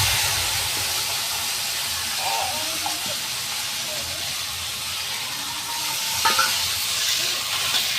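Ginger, garlic, chilli and cumin fry with potatoes in a pan, a steady soft hiss and sizzle with occasional light stirring, faint voices in the background.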